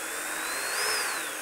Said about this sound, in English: When in doubt, use a bigger drill.